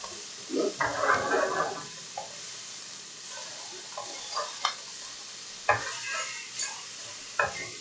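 Orange slices are set down in a hot pan and grill for ragout de boeuf. Brief sizzling bursts come up close, with scattered clicks and scrapes of the slices being placed and turned.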